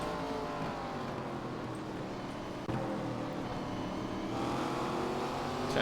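Race car engine in the iRacing NASCAR game, ARCA Series at Langley, droning steadily with harmonic engine tones under hard throttle, briefly spiking midway then holding loud and continuous with no voices.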